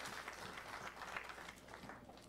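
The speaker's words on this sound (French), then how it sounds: "Applaudissons pour Jésus." Congregation clapping hands at a church service, a faint, distant wash of many people clapping continuously for a couple of seconds.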